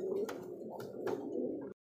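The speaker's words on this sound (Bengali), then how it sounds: "ডানলেসের একটা মাদি কবুতর শাটিন" A female wingless satin pigeon coos in close, steady phrases for nearly two seconds, the soft throaty calls rising and falling before stopping abruptly.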